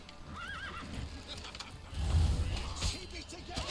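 Horse whinnies and clip-clopping hooves ring out in The Witcher 3: Wild Hunt amid a battle, with shouting voices and combat noise swelling around them over a few seconds.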